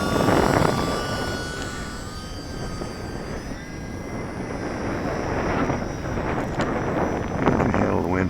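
A UMX Timber model airplane's electric motor runs steadily at quarter throttle outdoors, a thin tonal whine held over heavy wind noise across the whole stretch.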